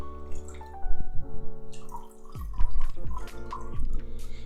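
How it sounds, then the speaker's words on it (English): Water poured into a plastic aquarium bag holding Cory catfish before release into a 70-liter tank, with close, gurgling splashes and drips in uneven bursts that trail off, then pour again. "So let's just add a little bit more water."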